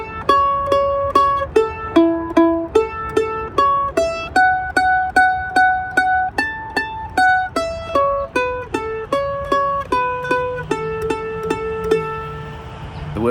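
Cherokee Shuffle is picked as a simple run of even eighth notes on a bright plucked string instrument, each note clearly attacked and decaying quickly in a steady, moderately paced rhythm, solo with no voices.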